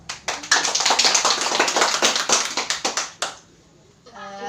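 A classroom erupts in quick applause for a student's answer, many hands clapping briskly for about three seconds before it stops, with a few voices murmuring afterwards.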